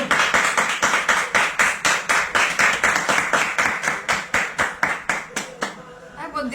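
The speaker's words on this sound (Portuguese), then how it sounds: "Aplauso, por favor." A show audience claps in unison, a loud, regular rhythmic beat of roughly four claps per second that keeps even time before loosening and trailing off into voices at the end.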